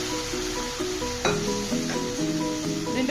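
Cooked green beans and their water poured into a sizzling tomato masala, a steady frying hiss with occasional clinks of a spoon against the pan, no talking.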